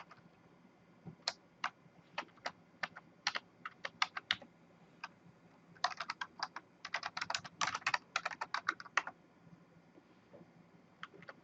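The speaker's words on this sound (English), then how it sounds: "my typing is off today" Typing on a computer keyboard while setting up a device in a networking exercise: a close, faint run of quick clicks, first scattered keystrokes, then a dense burst, then a few final taps.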